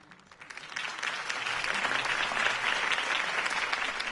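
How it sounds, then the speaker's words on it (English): Crowd applause in the video game Batman: The Telltale Series swells from scattered clapping into steady, sustained clapping, dense and moderately loud. "If only Mr. Wayne, my campaign's largest backer, could have heard that applause"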